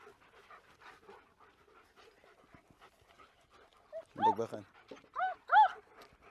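Several dogs pant and give short whimpers and yips close by, with quiet human talk underneath and louder whining bursts toward the end.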